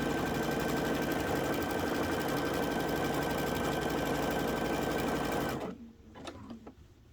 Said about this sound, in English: I am going as fast as it's letting me go with this type of stitch.